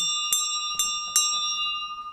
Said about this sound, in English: Time to ring freedom's bell.